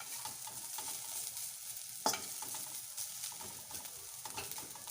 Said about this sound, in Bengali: এবার আমি উচ্ছেগুলো আবার এর সঙ্গে নাড়াচাড়া করে দিলাম